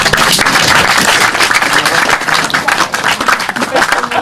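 A room full of people breaks into loud, sustained clapping, many hands beating in a thick, uneven patter that stays strong from start to end.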